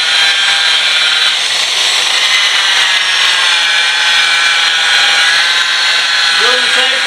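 Fine-grit sandpaper rubbing over a 2003 Mitsubishi Eclipse plastic headlamp lens, a loud steady close hiss of sanding that continues without pause, with a voice briefly heard near the end.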